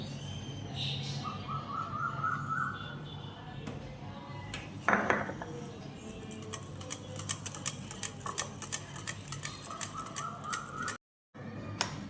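Gram flour is mixed into dhokla batter in a bowl with quick, light clicking and tapping strokes that grow denser and more rhythmic over several seconds, with a brief clatter of kitchenware partway through.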